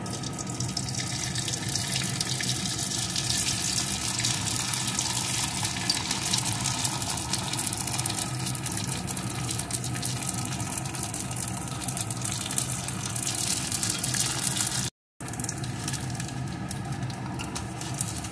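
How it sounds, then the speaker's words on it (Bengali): Papad frying one at a time in hot white oil makes a dense, continuous bubbling hiss, loud and close, that runs steadily for about eighteen seconds with only a brief break near the end and no talking. "এখন আমি এক এক করে দিয়ে ভেজে নেব বন্ধুরা।"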